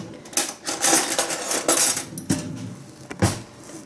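A mini whisk beating brown sugar into melted honey in a pan gives quick metallic clinks and scrapes against the pan in uneven bursts, close and fairly loud, with no voices.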